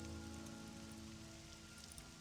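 Rain falling in the Morrowind game, a soft steady patter and hiss on surfaces, faint and continuous with no voices.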